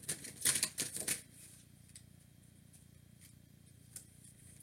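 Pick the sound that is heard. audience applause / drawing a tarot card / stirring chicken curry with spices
drawing a tarot card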